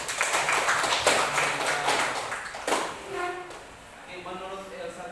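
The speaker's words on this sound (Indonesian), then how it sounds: "tepuk tangan dulu" A group in an Indonesian classroom session gives a short burst of clapping that fades after a few seconds, and a voice speaks near the end.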